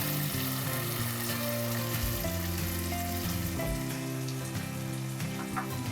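Chicken pasta sauce made with double cream and chicken broth sizzles and bubbles steadily in a pan, a continuous close frying hiss with no talking.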